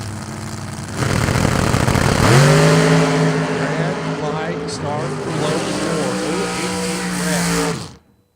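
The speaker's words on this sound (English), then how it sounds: "Sugar Shane will be on the chase with that loud car." Loud blower-supercharged drag racing car at a high-stakes drag race event, launching with a roaring, rising engine note that holds for several seconds, heard close under commentator talk before cutting off.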